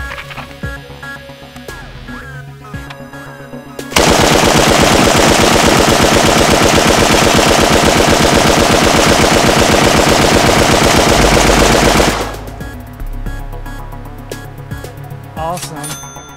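Light machine gun designed by Jim Sullivan for the Singaporean Army, firing one long continuous burst of rapid, loud, even shots for about eight seconds, with quieter handling noise before and after.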